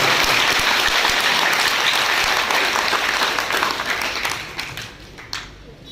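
An audience at a school principal's retirement function claps in sustained, dense applause that stays loud for several seconds and then thins out toward the end.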